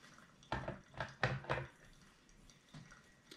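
Water poured slowly over coffee grounds in a Kalita Wave 185 pourover dripper, heard as a cluster of soft splashing and trickling bursts that then trails off into quiet, close by with no talking.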